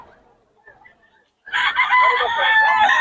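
A rooster crows loudly and close by at a market in Bocaue, a long strained call that follows a moment of faint, quiet background sound.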